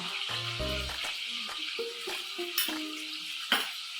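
Onion and tomato fry in a pan with a close, steady sizzle, stirred along with clinks and taps of a utensil against the metal.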